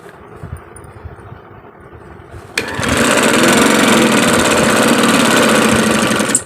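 Sewing machine stitching elastic onto a salwar starts after a few quiet seconds of handling noises, then runs as a loud, close, rapid steady buzzing and rattle until it stops at the end.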